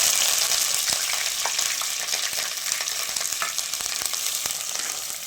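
Steady loud sizzling of shallots and curry leaves frying in hot oil, with crackling pops throughout and occasional stirring clatter, no voices.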